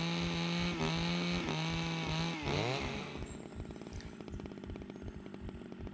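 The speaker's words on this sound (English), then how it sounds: "trying to pull start a chainsaw if it doesn't want to cooperate" A chainsaw in the survival game Scum being pull-started, a loud revving engine drone with a few rising surges and a pitch sweep, then dropping to a rough, choppy idle.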